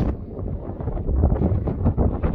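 Strong outdoor wind buffeting the microphone, a steady loud rumbling roar with gusty swells throughout, no voices.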